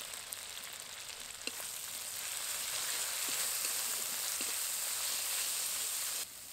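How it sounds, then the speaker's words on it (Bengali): Cumin, coriander and dried red chilli paste with salt and turmeric frying in a pan with a splash of water, a dense, even sizzle that swells after a couple of seconds and holds steady, nearby and fairly loud. "অল্প জল দিয়ে মশলাটাকে ভালো করে কষিয়ে নেব"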